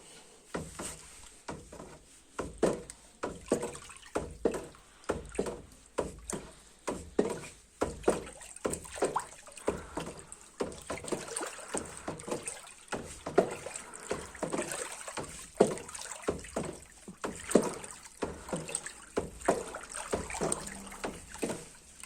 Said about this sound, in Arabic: وبعد ما نزلت بالفورمالين هقلبه كويس جدا